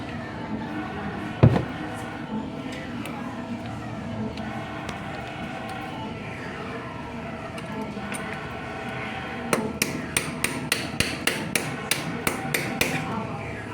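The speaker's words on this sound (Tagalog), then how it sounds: "ini martilyo liao" A hammer strikes metal, one hard blow early, then a quick series of sharp, regular taps near the end over faint background noise.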